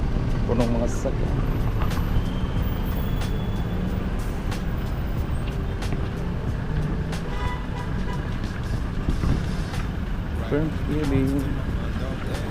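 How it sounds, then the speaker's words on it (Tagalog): Dense road traffic of cars, buses and trucks crawls along a congested street after heavy rain, a steady loud engine rumble with an occasional air-brake hiss, while someone talks over it. "Grabe ka traffic ngayon kay suspended ang klase"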